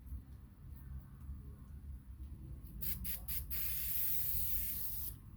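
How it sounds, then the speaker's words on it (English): Short bursts of spray adhesive hiss from an aerosol can onto an acoustic panel, several quick pulses followed by a longer steady spray, close and fairly loud over a low background rumble. "usually we just spray a little bit"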